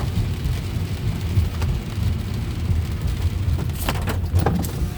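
Heavy rain pours steadily on a car driving around Metairie in a thunderstorm, a dense continuous hiss with distant thunder rumbling low beneath it and a few sharper crackles near the end.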